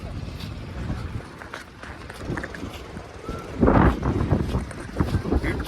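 Wind blows outdoors at Omkareshwar, rumbling and buffeting against the microphone in uneven gusts that swell louder toward the end, with indistinct voices faintly present.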